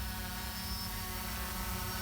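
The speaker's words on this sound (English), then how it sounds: "Okay, I'm again controlling the drone." SkyDive drone flying in to land, a steady droning, buzzing rotor whine with a constant tonal hum, continuous and fairly close, alone without talking.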